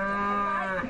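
A cow moos once, a loud, close, sustained low call, at the transhumance in the Val Pellice.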